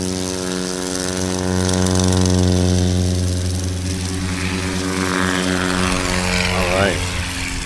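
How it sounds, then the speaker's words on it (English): A small STOL propeller airplane revs up and takes off at a Sodbusters STOL competition practice in Hartford, Wisconsin, its loud droning engine building then pulling away, with people talking over it. "get him out of the way for Rick to take off"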